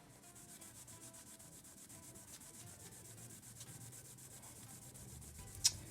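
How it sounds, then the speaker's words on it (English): Polishing a seized Yamaha Virago XV535 motorcycle crankshaft, a soft continuous rubbing and sanding scrape with a steady rhythmic swish, fairly quiet and close, ending with a brief sharp tick. "Nothing like polishing your crank on a Friday night, is there?"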